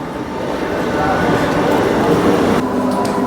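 A train rumbles steadily with a droning, rattling roar, with someone talking over the noise.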